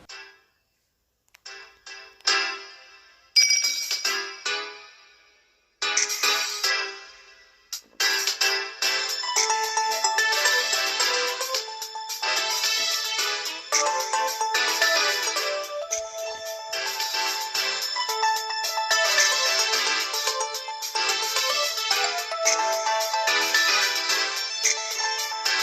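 An old mobile phone ringtone, from the first handset its owner ever had, played back through a voice recorder: a bright, tinny electronic melody that starts in short stuttering bursts, then runs as a steady, fairly loud tune.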